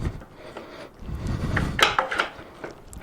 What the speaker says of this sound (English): We're going to grab our brake caliper. We're going to slide that over the rotor.